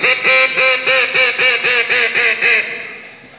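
A voice imitates a mallard hen duck call: a steady run of about nine loud, evenly spaced nasal quacks that taper off at the end, with no other sound.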